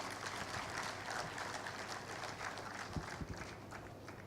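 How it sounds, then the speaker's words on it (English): Applause from a conference audience at a CFO event in Karachi, a soft, distant and sustained patter of clapping that carries on evenly, with a few sharper knocks near the end. "please, a big round of applause for Mr."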